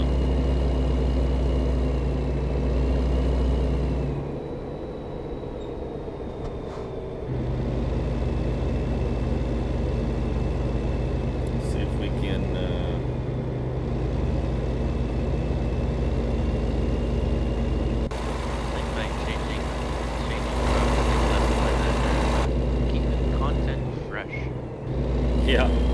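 Kenworth truck engine in a trucking video game, running at a steady low drone with a heavy rumble, shifting in level a few times over the stretch.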